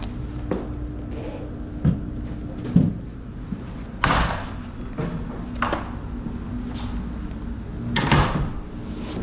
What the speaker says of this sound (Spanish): Esa puerta se ha cerrado.